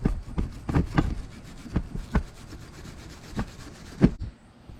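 A Nissan 300ZX oil filter housing being scrubbed clean during a timing service, with irregular close scratchy brushing strokes of varying strength and short gaps between them.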